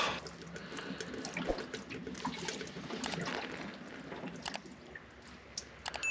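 Engine coolant draining from a Vanagon during rear heater and radiator fan work, a close, wet trickling and splashing of liquid with irregular drips and squishes, fairly faint and without talk.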